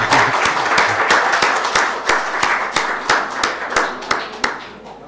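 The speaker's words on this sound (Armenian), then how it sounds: "ծափահարենք բոլորս։" Applause at a Yerevan city council session, a single round of clapping from a roomful of members, fairly close and steady, with sharp individual claps standing out toward the end.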